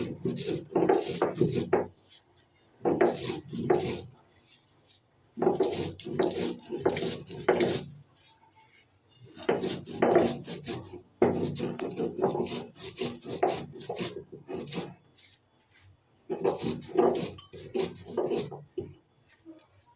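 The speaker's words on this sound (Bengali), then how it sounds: "মশলাটা এইভাবে গুঁড়ো করে নিতে হবে" Whole spices are ground by hand for chole bhature, giving repeated rasping, rubbing strokes. They come in bursts of a few seconds separated by short pauses, close and clear, with no voices.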